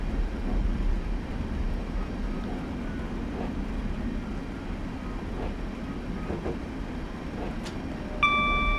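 A train coasting with power off in Train Simulator 2015 on the Sheerness to Sittingbourne line: a steady low rumble of wheels on track with faint rattles, then a short tonal chime near the end.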